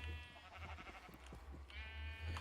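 Blocky sheep in Minecraft bleat a few times in quick succession, close and clear over a low steady game hum, with no talk over them.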